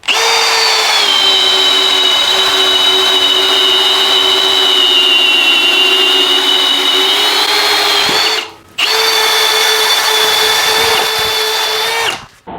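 A Milwaukee cordless power drill on an 8 amp hour battery at speed 1 gives a loud, steady high whine for about eight seconds, stops briefly, then runs again at the same pitch until it cuts off.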